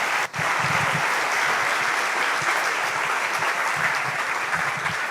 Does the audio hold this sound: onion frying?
no